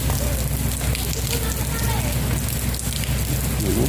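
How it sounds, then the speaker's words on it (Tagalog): Steady rain pours down outdoors as schoolchildren walk home through it, a dense continuous hiss filling the scene, with faint voices mixed in beneath the downpour. "Inaabot ng ulan, oh."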